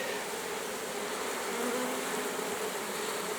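A dense, steady buzz of many honeybees from a fresh swarm around two hive frames in a clay log hive, a continuous droning hum with no voices.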